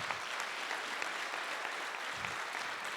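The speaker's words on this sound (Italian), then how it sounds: "concluderei davvero con un applauso" A civic gathering's audience applauds in a tribute to Dina Zaja, a steady, dense wash of clapping that stays even and moderately distant throughout.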